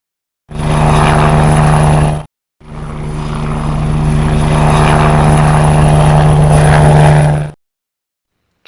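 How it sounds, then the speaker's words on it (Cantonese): A toy helicopter's electronic rotor sound plays loudly and close, a steady whirring drone that stops briefly, then resumes for about five seconds before ending abruptly. "helicopter"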